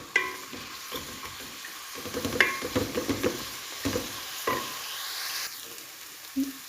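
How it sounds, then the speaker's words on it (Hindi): Onions sizzle and fry in a pan until light brown while a spoon stirs and scrapes through them. The crackling is steady and close, with occasional louder knocks against the pan. "अब इसमें आपने पहले प्याज को लाइट ब्राउन करना है।"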